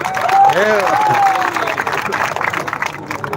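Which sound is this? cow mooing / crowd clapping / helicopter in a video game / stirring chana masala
crowd clapping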